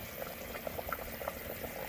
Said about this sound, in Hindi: पानी बॉईल होना शुरू हो गया है।